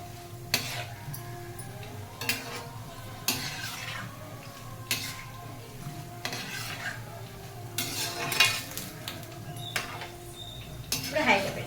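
Chiwda ingredients frying until crispy in a pan, a soft continuous sizzle broken by repeated clanks and scrapes of a utensil against metal, with a person speaking at times.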